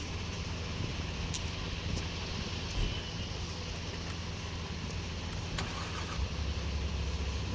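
A BMW car engine cranking and catching, then a steady low rumble at idle with faint higher whines and small clicks on top, close and continuous throughout.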